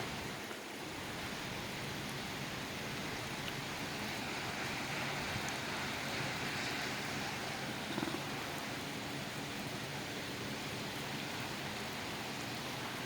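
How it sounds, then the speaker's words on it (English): Steady rain falls outside a balcony during a thunderstorm, a soft, even hiss that runs unbroken throughout with no voices and no clear thunder. "We're just getting a thunderstorm, that's all."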